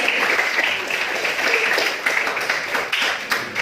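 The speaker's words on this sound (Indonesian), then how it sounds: "berikan dulu aplaus karena semua hadir hari ini" A school class claps together in a classroom, with continuous close, fairly loud applause running through the whole stretch with slight rises and falls.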